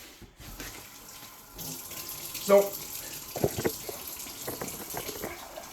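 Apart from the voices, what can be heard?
water running from tap into measuring cup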